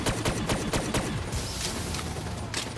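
Rapid automatic fire from the Dingo rifle in Call of Duty Zombies on the Zetsubou No Shima map, a dense burst of loud shots in quick succession with a few separate bursts, close and alone with no talk.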